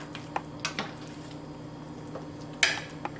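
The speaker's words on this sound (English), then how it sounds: "And now we're gonna add the shrimp to the sauce. Give this a stir." Shrimp being stirred in red sauce in a pan: soft wet squishing and scraping, a few clinks of a utensil against the pan with one louder knock, over a low steady kitchen hum.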